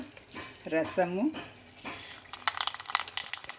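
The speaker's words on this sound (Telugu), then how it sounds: "రసానికి పోపు పెడుతున్నాను అనమాట." Crackling, spattering sizzle of spices hitting hot oil to temper rasam, starting after a brief voice and growing busier with rapid pops toward the end.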